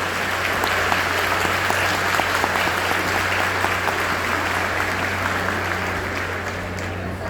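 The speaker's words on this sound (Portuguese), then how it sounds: "Palmas para Jesus, por favor." An audience applauds steadily for Jesus at a church testimony event at an expo in São Luiz Gonzaga, a dense, even wash of clapping held at a loud level from start to finish, with a low hum running underneath.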